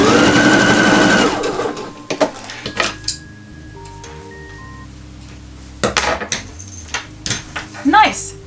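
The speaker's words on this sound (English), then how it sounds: "I'm just going to fold the zipper and the fabric back here and stitch that in place" A sewing machine runs in a loud, fast burst while stitching the folded end of a zipper onto fabric, then stops, leaving scattered clinks and handling clatter in a quiet room.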